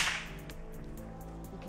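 A homemade bullwhip doing a basic Kappelman crack outdoors in a valley, heard as a loud initial snap that fades into a lingering echo with faint repeated ticks, no voices.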